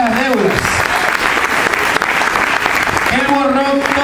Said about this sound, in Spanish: ¿Cuánto dan un aplauso por eso?